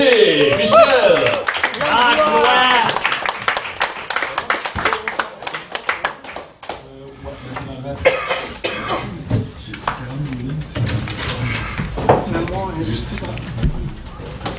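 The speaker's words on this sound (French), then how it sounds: "On l'applaudit, Michel." An audience applauds a performer named Michel at a live spoken-word event, with scattered clapping near and far mixed with coughs, throat clearing and voices talking.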